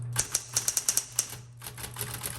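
Typing on a 1970s Electra 120 electric typewriter: a quick series of crisp key strikes close up over a steady motor hum, followed by softer, denser keystrokes.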